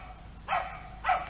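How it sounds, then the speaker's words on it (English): Two sharp dog barks ring out outdoors, each a short bright burst about half a second apart, fairly close over a quiet background. "Sorry for the dogs, we're outside."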